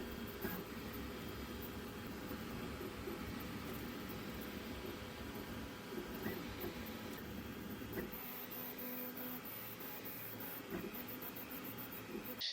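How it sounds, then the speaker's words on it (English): An AnyCubic Kobra S1 3D printer prints a tolerance test model, a quiet, steady mechanical whirr of stepper motors and fans that runs alone without a break. "Then I'll print the tolerance model to see how well the parts fit together."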